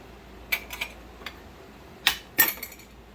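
A measuring spoon clinks against a bowl while half a teaspoon goes in during homemade chocolate making, a handful of sharp, bright taps in irregular clusters over a quiet room, with no talk.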